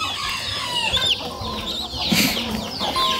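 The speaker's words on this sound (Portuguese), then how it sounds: "Ó, o outro galo apareceu aqui agora, do pescoço pelado." Chickens cluck and chatter in a farmyard with a naked-neck rooster nearby, a busy mix of close clucks and short higher calls overlapping throughout, no talking.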